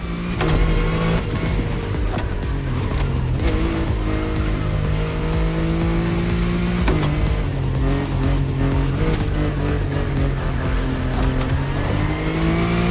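A BMW i8 driven in the racing game The Crew Motorfest, its engine droning loud and steady throughout with rising and falling revs, shifts and gear changes, plus brief tire squeals over a continuous music-like bed.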